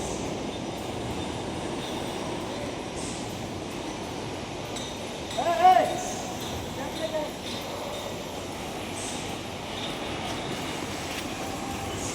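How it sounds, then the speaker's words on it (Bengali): A train runs with a steady, loud rolling rumble throughout, briefly broken by a short wheel squeal near the middle. "একদম সিধা ট্রেনে উঠাচ্ছে 22 ফ্লোরে।"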